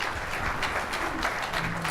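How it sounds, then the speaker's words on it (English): Audience applause at a real estate investor seminar, a steady wash of clapping heard at moderate distance for two seconds. "Big round of applause."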